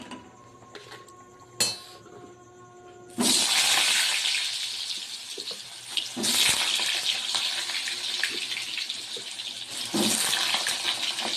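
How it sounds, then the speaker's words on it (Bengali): Potatoes fry in a pan with a loud, steady hiss and crackle that bursts in suddenly after a quieter opening with a few clinks, continuing unbroken with occasional spatters and no talking. "এবার আলুগুলো ভেজে নেবো লাল লাল করে"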